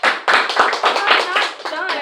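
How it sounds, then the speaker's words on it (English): An audience claps during a senior farewell speech at a 2018 school event, a short burst of brisk, close clapping with voices and laughter mixed in. "clap it up."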